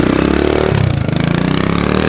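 A carbureted Kawasaki KLX dirt bike engine revs steadily up close, its mid-pitched buzz holding strong throughout with a brief dip in the middle before climbing again.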